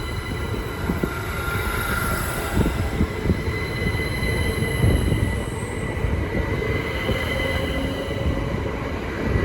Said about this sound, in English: Now departing is the 1844 Great Northern service from Kingsland to London King's Cross.